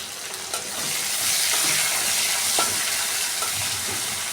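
Two chopped medium onions fry in hot oil for a chachra, giving a steady, close hissing sizzle with a few stirring clinks, alone without talk.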